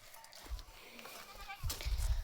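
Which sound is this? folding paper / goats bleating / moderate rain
goats bleating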